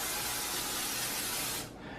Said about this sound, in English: use our PAM 0-calorie spray, get our nice little pan going.